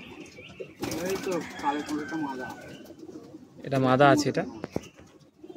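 Madrasi and desi pigeons for sale in Bagnan, Howrah coo and rustle at close range, with a louder throaty burst near the end, while a person talks briefly over them.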